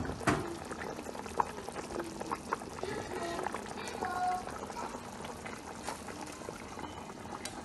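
Yam porridge with goat tripe boils in a covered pot, a quiet, steady bubbling and gurgling that carries on evenly, with a few soft knocks and no talking.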